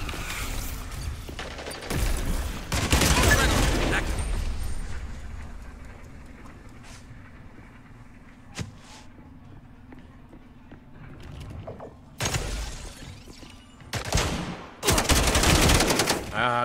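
Bursts of rapid automatic gunfire in a first-person shooter video game, loud rattling volleys separated by quieter stretches with faint background hum and occasional single shots.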